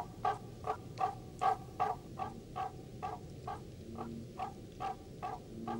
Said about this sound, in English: The explosive calls of the barking tree frogs sound like the yapping of small dogs.